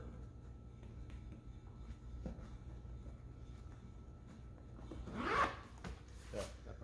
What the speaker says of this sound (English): so we're zipping it down and around